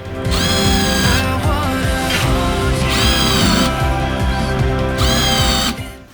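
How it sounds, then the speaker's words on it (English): A power drill countersinks screw holes during a van build, whining in three sustained high bursts separated by lower grinding and clicking, loud and close throughout. "I'm just creating the countersunks, the holes for the screws to sit in."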